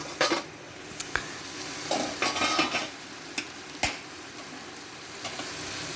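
Pointed gourd frying in a pan while being stirred, a soft continuous sizzle broken by scraping sweeps and a few sharp clinks of a utensil against the pan.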